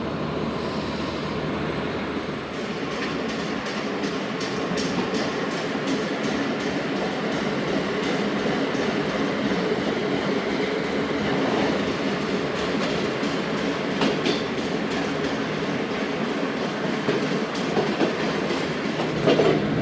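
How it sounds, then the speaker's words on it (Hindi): A train passes on the adjacent down track in Pakistan, heard from inside a moving passenger train as a loud, continuous roar with rhythmic clickety-clack of wheels over rail joints throughout. "तो डाउन में कोई ट्रेन पास हुई है।"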